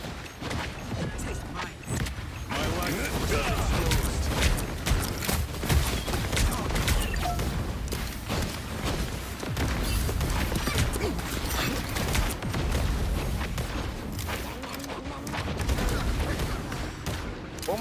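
Gunshots in a western video game crack in dense irregular bursts, mixed with mechanical clicks and hoof-like clatter, loud and busy throughout, with game voices and a player talking over them.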